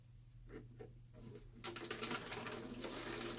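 Water flows through a hose straight out of an existing fish tank into a jug during a betta tank setup: a few faint splashes at first, then a steady, close pouring gush with a low hum beneath it.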